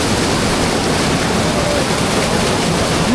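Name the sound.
water rushing down and falling onto a head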